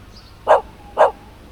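An excited puppy gives two short, sharp yaps about half a second apart, close and loud against a quiet outdoor background.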